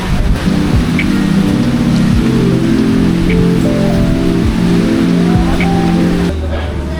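Strong wind roars steadily across a Boracay Island beach as a storm makes landfall, a dense continuous rush with low rumbling and surf mixed in, loud and unbroken until it eases slightly near the end.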